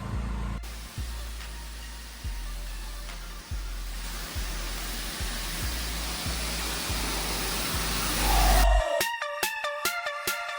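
A pressure washer rinses dirt off a patio with a loud, steady broadband hiss of spraying water, marked by periodic low thumps. It cuts out near the end, leaving sharp clicks and knocks.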